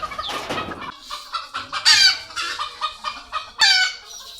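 Chickens cluck and a rooster crows in agitated bursts, close and loud, as a mongoose startles the flock in a farmyard.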